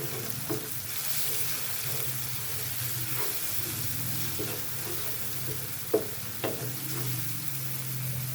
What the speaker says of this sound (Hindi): गरम मसाला, कुटी हुई लाल मिर्च और हल्दी डालेंगे। अब हम इन सबको अच्छी तरह मिक्स करेंगे।